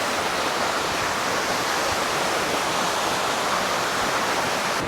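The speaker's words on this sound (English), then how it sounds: "And that water's thundering over the edge." A big Bali waterfall thunders over its edge as a dense, steady roar of pouring water, loud and close with no break.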